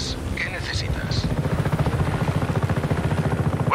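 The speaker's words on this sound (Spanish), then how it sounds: "Vámonos en el helicóptero." A helicopter in the video game Just Cause 3 produces a rapid rhythmic rotor thump that grows clearer and more regular, with a voice speaking briefly near the start.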